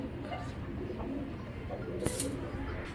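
A young Giribaz pigeon squirming in someone's hands, with soft cooing and a brief rustle of wings over a low steady background, faint and close.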